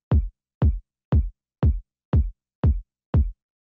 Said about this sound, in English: The first one we have here is this kick,